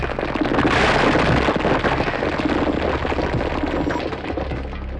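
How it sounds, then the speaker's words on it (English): SpaceX Starship 36 exploding during a test, a loud sustained roaring blast with crackling bursts that holds at full intensity for a few seconds, then slowly eases off into a rumbling tail. "SpaceX's Starship 36 suffered a serious explosion"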